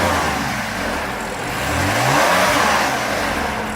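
A 3-liter inline-six BMW M3 rated at 425 horsepower, fitted with an M Performance exhaust, revs once with a steady, throaty rise and fall. It sounds close and moderately loud, with no talk over it.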